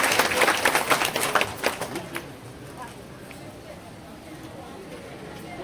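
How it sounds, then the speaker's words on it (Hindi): Applause at an outdoor RJD political rally in Madhepura, Bihar, a dense burst of clapping that is loud at first and then thins out and fades within about two seconds, leaving only quiet background noise. "ताली बजाइए एक बार"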